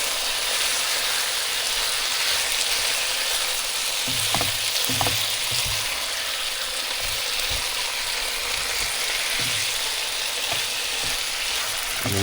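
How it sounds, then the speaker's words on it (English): Chicken pieces fry in a pan for a creamy garlic herb chicken pasta, a loud continuous hiss with brief knocks and scrapes as the pieces are stirred and turned, close with no voices. "let's go ahead and give this a stir, turn it over"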